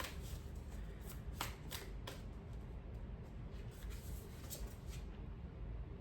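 Angel Wisdom tarot cards shuffled by hand, a run of quick riffling flutters and soft card slaps repeating in bursts, close and fairly quiet with no talking.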